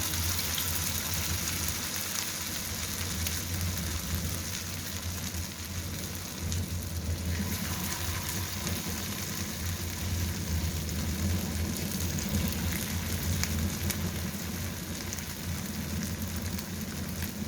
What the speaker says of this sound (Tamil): டவாவில் வச்சு அப்படியே நம்ம ஃப்ரை பண்ணி எடுக்கலாம்